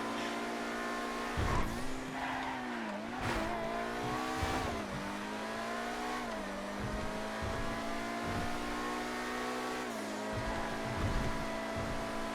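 GT race cars in the driving game GTA FiveM, with a steady engine drone that rises and falls in pitch through gear shifts. Brief tire noises and thumps break in now and then, at moderate loudness.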